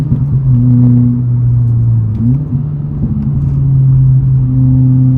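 A 2023 Subaru WRX pulls through its gears on a backroad, a steady close engine drone with a pitch dip and rise partway through, continuous and loud with no talking.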